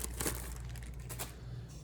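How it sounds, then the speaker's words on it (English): A plastic bag crinkles briefly as clay sculpting tools are packed back into it, a close, soft rustling with a couple of sharper crackles over steady low background noise. "So I'm putting up all my tools back into the plastic bag."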